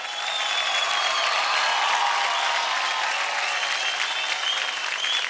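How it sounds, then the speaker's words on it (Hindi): A television dance competition studio audience gives loud, continuous applause, a dense wash of clapping that holds steady for several seconds without speech over it. "जोरदार तालियां हो जाए दिल्ली की स्नेहा जी और रांची के अभी।"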